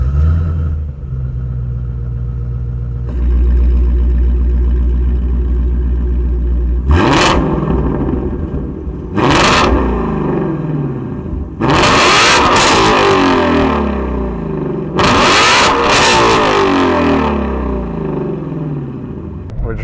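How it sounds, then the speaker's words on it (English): A 2016 Ford Mustang Shelby GT350R drives off and accelerates hard through several gears, its engine rising in pitch in repeated strong pulls with brief shift breaks, loud and close throughout. "Driving the GT350R."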